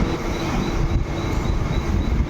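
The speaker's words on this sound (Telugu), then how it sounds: "ఇప్పుడైతే మనం ట్రైన్ ఎక్కేసాము." Inside a moving Mumbai local train heading from Wadala station toward CST, a loud, continuous low rumble of the rolling carriage with steady mechanical roar, no distinct announcements or talk.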